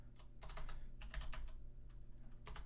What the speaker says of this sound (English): Excuse my loud clicking.